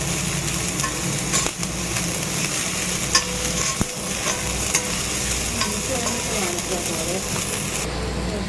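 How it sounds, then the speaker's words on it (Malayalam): Shallots sizzling and frying in a pan with sliced seer fish for a homemade beef curry, a steady close hiss with occasional stirring clinks and scrapes throughout. "അതും ചെറിയ ഉള്ളിയും കൂടെ ഇട്ട് കൊടുക്കുകയാണ്. ഒരുവിധം നന്നായിട്ട് മുപ്പിച്ചെടുക്കാം."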